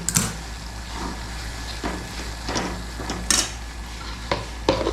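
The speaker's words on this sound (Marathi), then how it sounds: "कढई आमची हलते." A wok shifts and rattles on a home gas stove, giving scattered close metallic clanks and scrapes over a low background hum.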